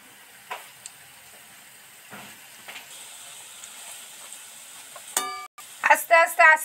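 Battered shrimp mince fritters frying in oil over a low flame, with a soft continuous sizzle punctuated by light stirring and clinks, then sharper bursts of utensil and pan noise near the end.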